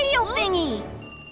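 A radio call rings in a kids' cartoon as a cascading electronic jingle of descending, warbling tones, followed by a thin, sustained high chime.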